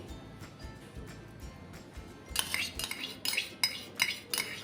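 Jaggery, ghee and coconut milk are mixed in a metal pot. After a quiet start, a spoon scrapes and clinks against the pot in several quick, close strokes.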